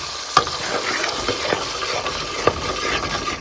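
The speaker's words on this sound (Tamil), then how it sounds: "இந்த புளி கரைசலை சேர்த்தாச்சு" Tamarind water added to hot oil sizzles steadily while it is mixed, with a few sharp utensil knocks against the pan cutting through the continuous frying hiss.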